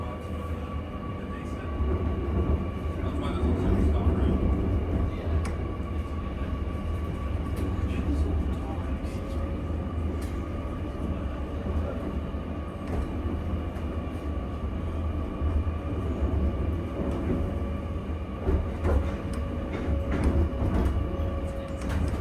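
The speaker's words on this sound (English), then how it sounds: "here is a good audio of the DZ motor from the inside" An electric train motor hums from inside a New Intercity Fleet carriage on the Central Coast and Newcastle line, with steady tonal whine and rumbling over the tracks, continuous for the whole stretch.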